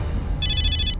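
A phone rings with a brief electronic ringtone burst over a low background hum in a Hindi television drama scene.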